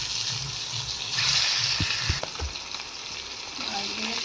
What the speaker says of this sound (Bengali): দিয়ে দেবো মাছগুলো